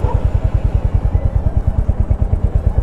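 A Royal Enfield Hunter 350 motorcycle engine starts and idles close by with a steady, rapid low thumping.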